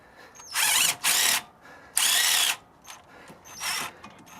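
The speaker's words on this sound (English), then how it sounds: "This time I'm going to use a small impact wrench, 1/2-inch small format impact wrench from DEWALT to get this lower one off" A DeWalt 1/2-inch small-format impact wrench removes a lower bolt on a 2007-2014 Chevy Suburban front wheel bearing job, firing in four loud, close hammering bursts separated by short quiet gaps.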